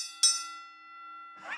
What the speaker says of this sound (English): I'm going to have to use the Kenny Bell today.